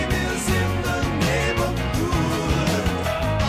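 A loud, dense rock recording by a band plays, with steady pounding drums, bass and layered instruments filling the whole stretch without pause.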